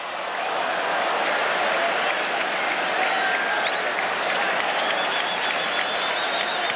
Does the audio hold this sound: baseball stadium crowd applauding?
yes